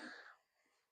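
A single sharp sneeze, loud and close, bursts at the start and fades quickly into quiet room tone.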